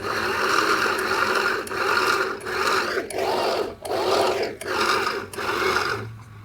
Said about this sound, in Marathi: हे बघा बॉबिन आपाप भरलं जात आहे